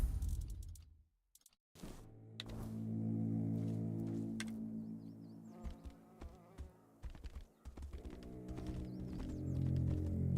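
Faint hoofbeats of a ridden horse clip-clop in the fantasy game The Tainted Grail: The Fall of Avalon, coming in short irregular runs of soft thuds over ambient game sound and a low musical drone.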